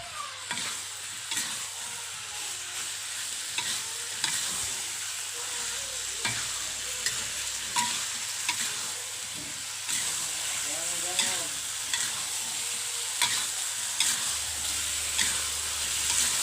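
Jengkol and purple eggplant stir-fry in a wok with a constant bright sizzle, and a spatula scrapes and taps at regular intervals as the pieces are tossed. The sound is close and steady throughout.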